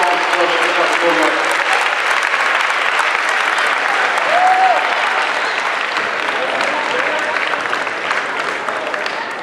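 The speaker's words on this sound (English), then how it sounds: "We give all the young people a round of applause for the program." Sustained applause from an audience at a high school Black History Month assembly, honoring a choir and young performers; broad, continuous clapping with a brief whistle partway through.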